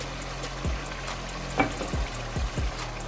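Mutton masala with turmeric, salt and red chili is stirred in a pan, a steady frying sizzle under a few soft scraping stirs of the spoon.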